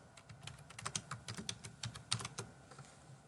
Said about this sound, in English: I'm going to click in the password box and I'm going to type in the password